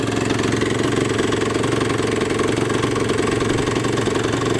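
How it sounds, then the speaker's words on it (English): A Suzuki RG 125 motorcycle engine idles roughly and runs flat, giving a steady, close, continuous mechanical chug with a knocking, uneven pulse and no talk over it. "Just a shame that the engine is flat, very flat."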